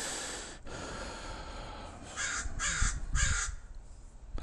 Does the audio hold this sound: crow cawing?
yes